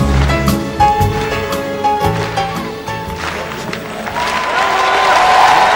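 Arena crowd applauding and cheering at the inaugural event at the Siemens Arena during a 2004 world championship final round, a steady dense roar of clapping and voices that swells louder toward the end over fading music.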